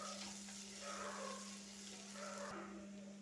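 Ginger-garlic paste frying in a pan for a fish curry: a continuous soft, hissing sizzle heard up close, steady throughout with a faint low hum underneath.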